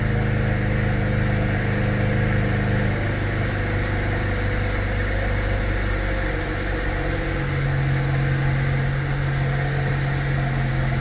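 A car engine idles steadily after a cabin air filter change, a constant low hum and drone that stays even and alone, with no voices.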